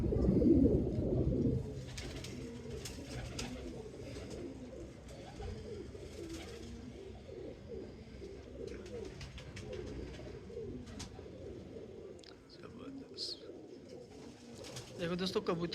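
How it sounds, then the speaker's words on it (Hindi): Pigeons on a rooftop loft in Karachi coo steadily and closely throughout, a dense overlapping rumble of bird calls with occasional higher chirps and light background noise. "ये कबूतर है"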